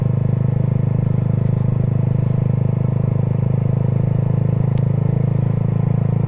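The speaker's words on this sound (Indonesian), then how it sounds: "muter sambil cek knalpot" A Suzuki GSX motorcycle fitted with a WRX Lingga aftermarket exhaust idles or rides at an even pace, a steady deep rumbling drone close by and alone, without speech.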